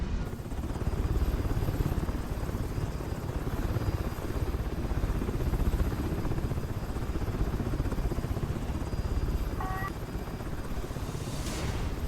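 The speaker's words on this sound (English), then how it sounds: "So that's our Blackhawk helicopter for today." An MH-60L Black Hawk helicopter in War Thunder drones with a constant thudding rotor and turbine roar, steady and loud throughout, with a brief whistling tone near the end.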